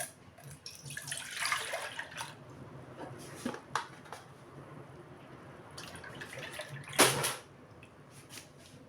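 A liter of milk is poured into a pot in a kitchen, giving a soft, faint, continuous liquid splashing and trickling with a few louder bursts.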